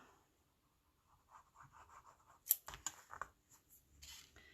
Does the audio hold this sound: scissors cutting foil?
yes